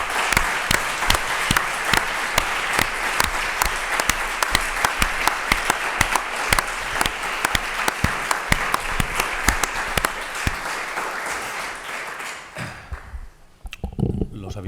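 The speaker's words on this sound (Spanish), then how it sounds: "Creo que se merece más que un aplauso." Audience applause at a talk from the DeustoForum lecture series, steady dense clapping from a seated crowd for about twelve seconds before fading out, with a few scattered claps at the end.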